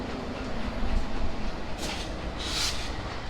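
Nakshikantha commuter train running on the Khulna–Dhaka line, a steady rumbling roll heard from inside, with two brief hissing bursts near the end and no speech.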